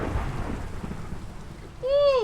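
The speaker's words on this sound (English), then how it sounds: "That thunderstorm is bussin'." A Minecraft thunderstorm with steady rain and a low, rumbling roll of thunder filling the background, joined near the end by a brief rising synthetic tone.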